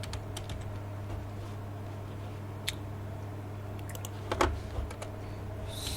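Light, irregular keystrokes tap on a computer keyboard while HTML is written, soft scattered clicks with a small cluster near the end over a steady low electrical hum.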